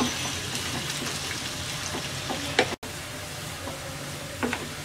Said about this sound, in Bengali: পেঁয়াজ রসুনটাকে হালকা ব্রাউন কালার করে ভেজে নেব।